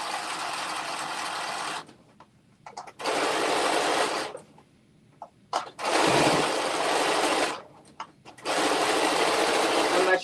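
A sewing machine stitching a double rolled hem runs in four loud bursts of rapid whirring, with short quiet pauses between them and a few faint clicks.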